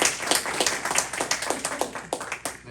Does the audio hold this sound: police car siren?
no